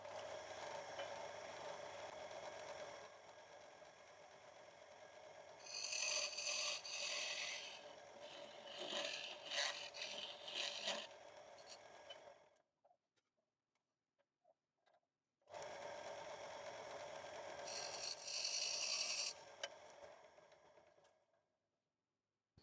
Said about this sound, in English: I'll chisel that out and turn that out to that mark